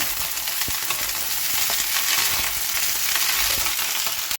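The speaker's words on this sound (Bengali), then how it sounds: "আর এই যে মাশরুম ভাজা হচ্ছে" Mushrooms frying in a pan, a dense continuous hiss of sizzling oil with a few faint stirring clicks, heard close up with no talk.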